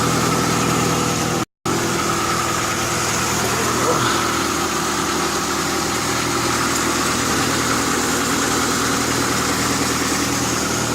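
A swapped car engine runs at its first start-up, idling steadily and loudly up close with a constant low rumble and vibration, briefly cut by a short gap, with no talk over it.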